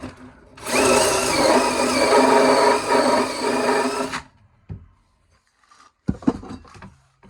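A power drill whirs loudly for about three and a half seconds, grinding steadily as it chamfers the end of a 4-inch plastic pipe, then stops, followed by a few light knocks and handling clatter.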